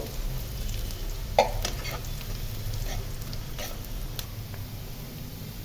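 Green chilli slices and chopped onion fry in oil in a wok, a steady soft sizzle with occasional light stirring taps, close but fairly quiet throughout.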